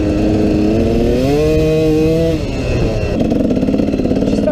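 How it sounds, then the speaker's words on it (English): A KTM 300 two-stroke dirt bike engine fitted with a Devil Spring power valve spring revs hard and close, its pitch climbing and then dropping before it settles into a rough, blipping idle. "I got a 300 two-stroke with a Devil Spring coming through."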